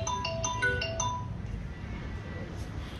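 A mobile phone rings indoors with a short melodic ringtone of bright, repeated electronic tones during the first second. A quieter hum and room noise follow.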